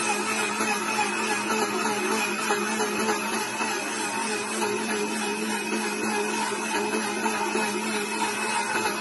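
A blender whirring continuously as it crushes herbal ingredients for a dry-cough remedy with squeezed lime juice, a loud, steady motor drone with a gritty grinding texture.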